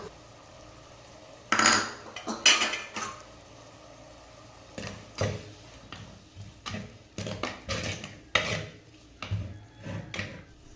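Onion, tomato, chilli powder and coriander powder sautéed in oil in a pan for a Tamil chicken kulambu, heard as a spoon scraping and knocking against the pan in irregular bursts over a faint background.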